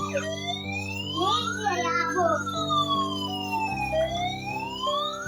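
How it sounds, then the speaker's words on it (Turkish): A small electronic toy ambulance siren wails in rising and falling sweeps, steady and fairly close, with a droning tone beneath it. "Ambulans geliyor."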